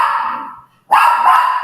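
A dog in a home in Mexico barks loudly and close by: one sharp bark that trails off, then a short silence, then another strong bark.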